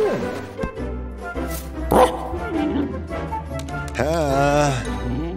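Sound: dog barking

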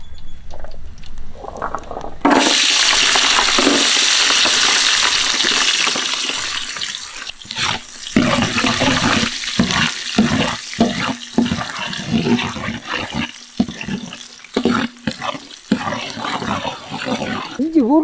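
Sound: ginger and garlic frying in oil

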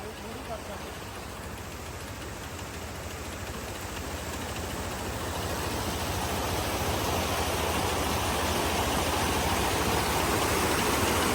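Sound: noisy motorcycle engine

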